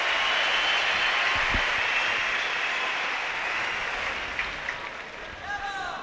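A large tennis crowd in Madrid applauds and cheers after the first ace of a match in a steady, dense roar that slowly fades, with a voice speaking faintly underneath.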